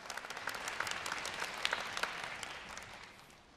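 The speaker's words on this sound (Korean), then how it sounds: "여러분 박수로 좀 맞아주시겠습니까?" An audience claps steadily to welcome a Korean history lecturer on stage at a live EBS university-admissions briefing, with dense applause that stays strong and then thins slightly toward the end.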